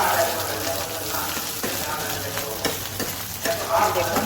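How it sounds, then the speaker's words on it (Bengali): Dried fish frying in hot oil and being stirred, with a steady close sizzle and intermittent scraping stir strokes throughout. "যখন শুটকিটাকে আপনি তেলে ভেজে নেবেন"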